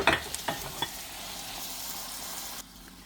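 Tomatoes cooking in a pan with cheese, potato and vegetables, giving a steady close sizzle and hiss, opened by a few sharp clinks and stirring knocks before settling into an even fry that drops away abruptly near the end.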